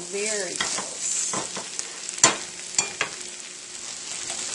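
Onions caramelizing in a pan, well browned after about twenty minutes, get stirred amid a quiet, continuous sizzle. A few sharp utensil scrapes and clicks ring out near the middle, close and distinct.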